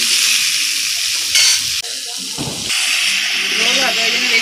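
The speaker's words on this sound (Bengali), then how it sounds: "তেলেতেই আমি পেঁপেগুলো আর আলুগুলো ভালো করে নেড়ে আমি ভালো করে একটু নেড়ে নেবো।" Papaya and potato pieces stir-fry in hot oil, a constant bright sizzle and hiss with scraping stirs and brief clatters, close and loud.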